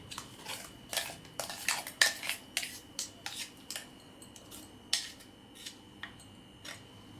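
A utensil stirring tomato paste into mutton pickle in a pot, giving a quiet, irregular run of scraping clinks and taps at a close distance, with short pauses between them.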